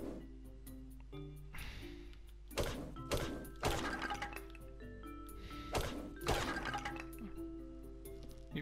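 Rock and jade are mined in a video game: several loud thunks and clinking pick strikes ring out at irregular intervals, with background music and no speech.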